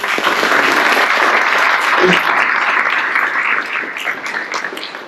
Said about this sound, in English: can we get a big round of applause for this?